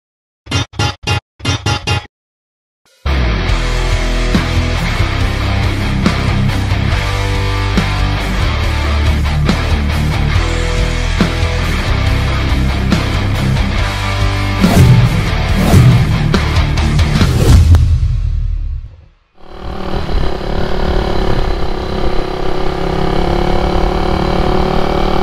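A 400cc two-stroke engine fed diesel fuel roars loud and steady for a long stretch, then abruptly dies as it breaks down, leaving a rougher, fainter noise afterward; a few sharp bursts come before it starts.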